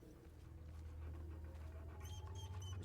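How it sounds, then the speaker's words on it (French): A puppy in the video game Hell Is Us pants rapidly and steadily, up close, with a few high, thin whimpers near the end over a low background hum. "J'ai trouvé ce petit chiot en train de pleurnicher tout seul dans une maison."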